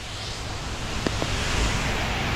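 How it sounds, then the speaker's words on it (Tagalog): Strong rush of rainwater flowing along a street just after a heavy downpour, a steady broadband wash with a couple of faint ticks, heard outdoors. "lakas ng agos ng tubig dito"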